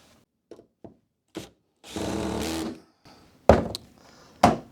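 Screws driven one after another into the top of a module, heard as short bursts separated by pauses, including one sustained run of several seconds, with sharp knocks near the end.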